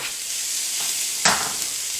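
Onions slid into a hot pan with olive oil, mushrooms already cooking, for keto cream of mushroom soup, giving a steady broadband sizzle with a brief louder burst of hiss near the middle.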